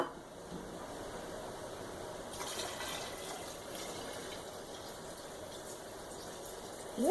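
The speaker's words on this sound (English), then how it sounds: "And top it off with water." Water running into a container of natural sun-tea dye, a quiet continuous gushing fill that grows brighter partway through and carries on steadily.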